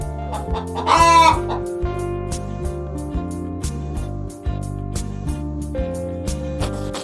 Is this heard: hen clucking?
yes